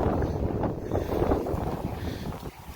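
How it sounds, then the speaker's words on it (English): Wind buffets a boat on open water, a loud continuous rumbling roar with gusty swells, dominating the scene with no voices heard. "I don't know if you guys are going to be able to hear me very well over the wind."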